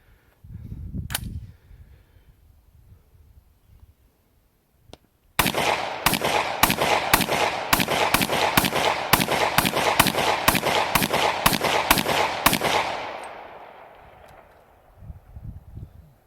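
300 Blackout rifle at a shooting range: one shot, a pause, then a rapid, evenly spaced string of about seventeen loud, close shots, ending with an echoing fade.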